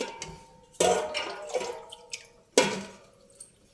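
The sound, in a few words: water poured into tamarind radish pulusu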